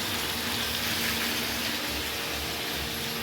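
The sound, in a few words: food being sautéed in a wok (karai)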